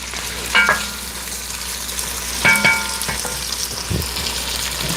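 Potatoes frying in a pan, salted and peppered, with a soft steady sizzle broken by a few sharp scraping stirs and clinks of a utensil against the pan, close and without talking.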